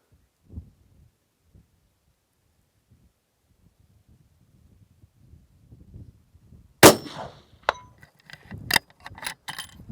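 A rifle gunshot fired from a standing hunting tripod at a shooting range, one sharp loud crack after a long quiet stretch, followed by a few lighter metallic clinks and clatters.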